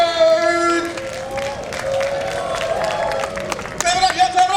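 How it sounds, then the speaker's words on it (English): Comedy show audience at an outdoor evening event clapping and cheering, steady crowd applause with a voice talking over it and a brief louder burst near the end. "Clap it up, y'all. Clap it up, clap it up, clap it up."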